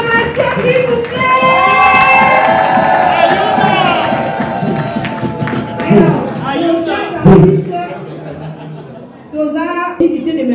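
A church congregation in Brussels roars and cheers to welcome visiting comedians, loud sustained crowd noise with shouts and thumps that fades into scattered voices and talk near the end.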